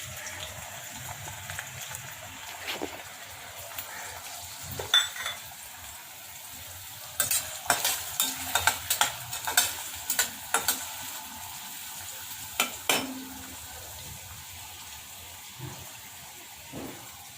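Onion frying in a couple of spoons of oil, a soft sizzle punctuated by scattered clinks and scraping stirs of a utensil against the pan, sparse and close.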